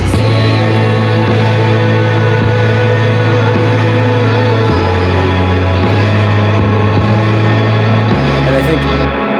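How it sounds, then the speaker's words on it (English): A dense, loud song chorus with full drums, sustained bass notes shifting every few seconds and vocals, playing continuously with no pauses. "So the next section is that same chorus section except with drums and then vocals for the second half of it."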